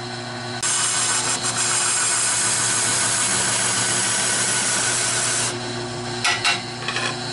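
Carbide tool cutting a birch bowl on a wood lathe produces a continuous loud hissing scrape for about five seconds, then trails off into a few lighter intermittent cuts.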